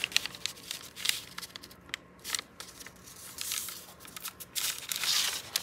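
Sheets of brown packaging paper being folded for a craft pocket, giving soft crinkling and rustling with a few sharper creasing crackles, close and fairly quiet, no talk.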